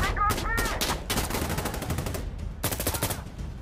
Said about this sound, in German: Ich check nicht, wer auf mich schießt.